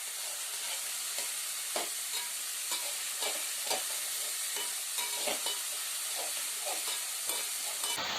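Tomatoes and mint leaves sauté in a pan for a village-style boti curry, with a continuous bright sizzle and irregular stirring scrapes close by.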